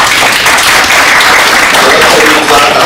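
Audience applause at a Turkish film festival talk, a steady wash of many hands clapping throughout, loud and continuous with no break.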